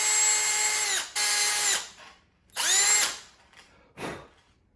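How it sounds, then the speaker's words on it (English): A Craftsman power drill boring a small hole during a DIY gaff build, whining in two loud sustained bursts that wind down, then a brief shorter buzz, close up with no talk. "Craftsman drill."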